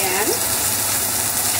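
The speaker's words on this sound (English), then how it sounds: "So I'm gonna add chopped onion into the pan." Chopped onion sizzles steadily in a frying pan while banh cuon is being prepared, a continuous close hiss of frying with a brief higher whistling tone near the start.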